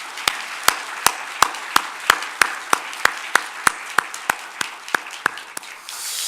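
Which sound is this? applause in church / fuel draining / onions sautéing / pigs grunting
applause in church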